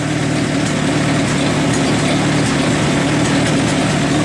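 Allis Chalmers C tractor engine running steadily at half throttle, a loud, close, even chugging drone that holds constant throughout without voices.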